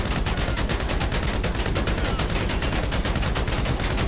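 Dense automatic gunfire from GTA Online's Casino Heist rattles in rapid, evenly spaced bursts for the whole stretch, loud and continuous, with no voices over it.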